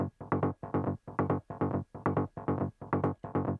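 A processed psytrance bass sample with a choppier, more rhythmic feel: roughly a dozen loud, close bass stabs pulsing in a rolling pattern with slightly shaped attacks and brief dips between them, played alone.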